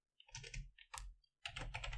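Typing on a computer keyboard while writing CSS code, two short quick bursts of key clicks separated by a brief pause, close and fairly quiet, with no one talking.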